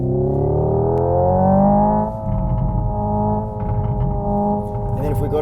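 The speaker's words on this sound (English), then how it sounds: "Ready for the backfires?" A 2024 Hyundai IONIQ 5 N plays its simulated engine sound, a steady synthetic droning tone that dips in pitch. A few faint crackling pops from the simulated exhaust backfires come near the end.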